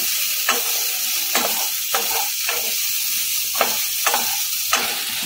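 Sabudana khichdi with large-grain sago is stirred in a hot pan: about eight rhythmic scraping strokes cut through a constant close, loud sizzle and hiss.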